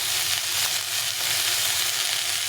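Tender young brinjal and vegetables sizzling in oil in a pan, a steady, close crackling fry throughout with no talk.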